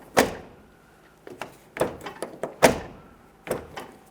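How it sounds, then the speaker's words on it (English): Driver's door of a 2005-2010 Dodge Dakota pickup being shut several times during handle work, sharp close thunks and latch clicks near and loud with small rattles between them, no talking. "Let's go ahead and close this and make sure the handle functions properly."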